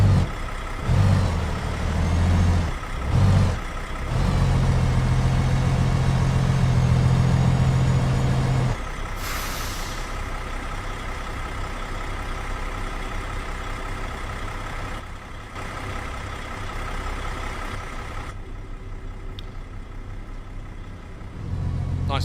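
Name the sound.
truck engine in video game American Truck Simulator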